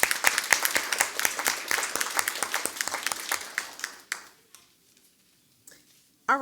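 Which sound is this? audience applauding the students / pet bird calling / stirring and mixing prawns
audience applauding the students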